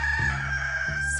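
A live rooster crows, one sustained high call held across the whole moment over a low background hum, fairly loud and close with no talk.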